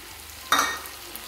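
Tomato paste hits a hot pan cooking a prawn and pointed gourd dish, giving one sudden loud sizzle that fades into a soft, steady frying hiss, with no voices.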